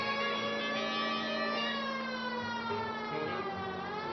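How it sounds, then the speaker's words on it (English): A police car siren in the video game LA Noire wails steadily and loudly throughout, a continuous rising and falling tone with layered harmonics over low engine rumble. "You want me to put the siren on?"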